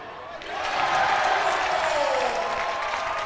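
A college men's basketball crowd at a Yeshiva–Washington College game reacts to a three-point shot. A broad wash of cheering and applause swells quickly and stays loud, with a commentator's voice faintly underneath.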